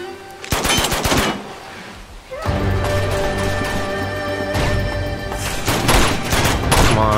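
Loud gunfire from the video game Uncharted 2: Among Thieves, a rapid burst of shots, a brief lull, then sustained automatic fire with several louder volleys over a steady game soundscape, no talking.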